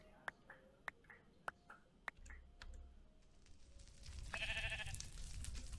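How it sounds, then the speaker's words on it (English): Sheep bleating in the Minecraft modpack FTB Skies, a few short bleats amid quick keyboard typing clicks, then a louder rising wash of game sound near the end. "Look at that sheep just chilling in soul fire."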